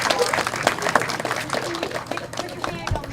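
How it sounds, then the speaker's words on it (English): An audience applauds, with dense scattered clapping filling the room for a few seconds while voices carry over it. "Give these guys a round of applause."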